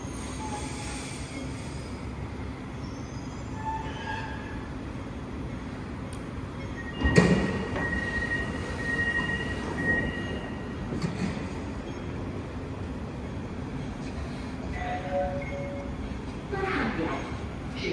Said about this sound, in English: The train approaching platform 1-2 Putrajaya Central is arriving.